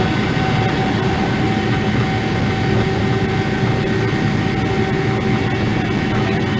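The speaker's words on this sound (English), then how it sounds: "you're going to hear that jet engine and think about holidays" A jet engine recording plays at a steady, loud, continuous roar with broad rushing noise and faint tonal whine, unbroken throughout and with no voices over it.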